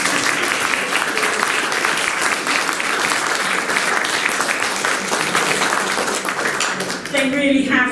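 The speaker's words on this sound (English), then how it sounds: "can we have a round of applause?" Guests at a 300-year anniversary reception give a warm round of applause, a thick, lively clatter of many hands that runs steadily for several seconds before fading.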